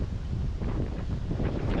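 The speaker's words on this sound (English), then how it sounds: "Back up to 30 plus knots of wind," Strong wind at sea, over thirty knots, buffets a sailboat, making a steady, loud roar and rush that fills the whole stretch, with no speech.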